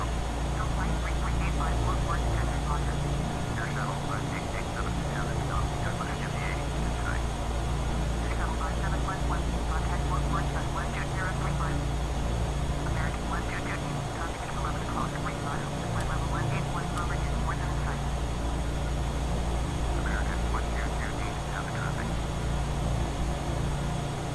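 A Realair Duke twin-engine plane drones steadily in a flight simulator game, a continuous loud cabin hum with a voice talking over it throughout.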